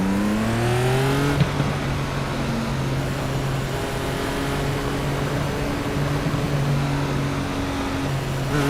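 An Indy car engine in the iRacing sim approaches pit entry with a loud, steady harmonic drone. Its pitch drops sharply early on as the car slows, then holds a low, even hum, with no voices.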